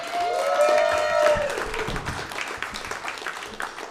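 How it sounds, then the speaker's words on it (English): A comedy club crowd claps and cheers, the applause gradually tapering off over a few seconds. "Keep that applause going."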